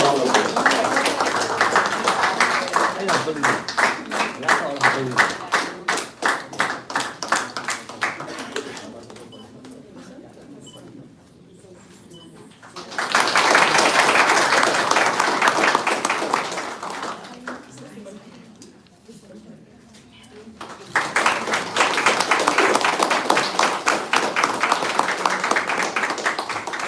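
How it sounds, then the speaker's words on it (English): Audience at a college ceremony breaking into a round of applause in bursts of dense, steady clapping separated by quieter stretches, fairly close and loud. "Ladies and gentlemen, please a big round of applause."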